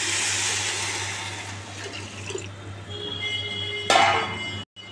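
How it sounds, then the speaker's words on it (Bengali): Water poured into a pot of pulao during cooking, a steady rushing splash that fills most of the moment, then a brief louder gush before it cuts off. "এবার জলটা দিয়ে দেবো"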